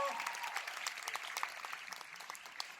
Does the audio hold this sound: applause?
yes